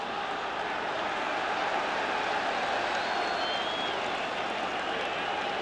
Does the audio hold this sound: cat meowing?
no